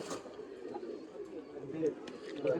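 Old-generation khaki pigeons give soft, low coos, faint and close amid a murmuring background.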